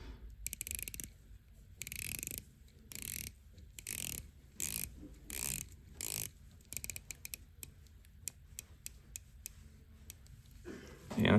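Titanium Breitling Chronomat watch bezel being rotated, producing quiet close ratcheting clicks in short runs and bursts separated by brief pauses.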